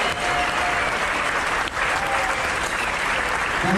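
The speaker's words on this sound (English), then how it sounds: "Please, let's give the crew a big round of applause." A room full of cruise ship passengers on the Rhapsody of the Seas gives the crew sustained applause at a captain's reception, a dense, even wash of clapping close by, lasting throughout.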